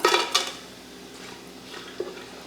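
Whole spices frying and crackling in hot oil in a pot for chicken biryani, with a few sharp clinks and stirs near the start, then a quieter sizzle with another knock toward the end.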